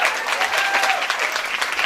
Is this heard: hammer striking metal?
no